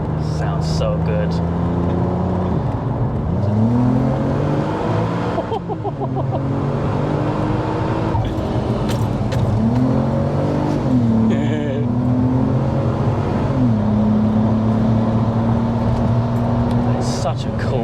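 Supercharged 500bhp VW Golf MK4 R32 with a DSG swap, engine revving loudly and steadily with rising and falling pitch, people talking over it throughout.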